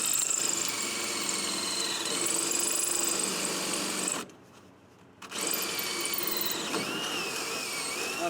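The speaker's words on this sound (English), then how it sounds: "now we're going to drill the hole through our handle and attach the handle all together" Power drill boring a hole through an overlapping boat guard handle, a loud continuous whirring grind that dips briefly near the middle, then resumes at full strength until the end.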